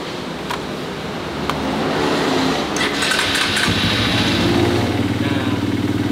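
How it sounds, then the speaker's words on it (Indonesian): A Honda CRF150L motorcycle with a Juken 5 ECU is started with the electric starter. The engine catches and settles into a loud, close, steady idle. "Oke, kita langsung on starter aja sambil perhatikan di"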